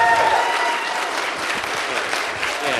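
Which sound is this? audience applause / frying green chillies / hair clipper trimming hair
audience applause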